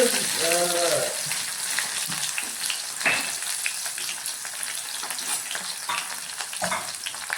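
Garlic frying in a well-heated Kerala cheenachatti (wok), a steady broadband sizzle with occasional stirring scrapes; a brief voice is heard near the start.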